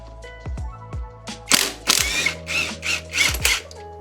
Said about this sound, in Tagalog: Okay, tanggal na yung tornilyo.